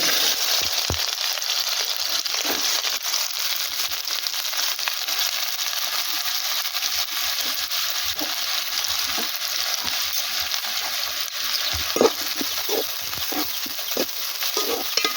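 Pieces of country chicken sizzle and fry in oil in a pan for Sunday-special Natu Kodi Pulusu, a steady broadband hiss with occasional scrapes and light clinks of stirring, close and continuous with no talking.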